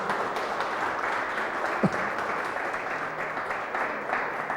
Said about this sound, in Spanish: ¿Quién le da un fuerte aplauso al Rey de Reyes?